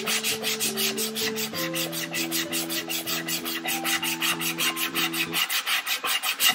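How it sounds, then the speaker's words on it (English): Hand sanding of wooden shelving for a hat and coat rack with 320 grit sandpaper, a steady rhythmic back-and-forth rasp repeating about every third of a second, close and alone over a low musical backdrop. "sand it off."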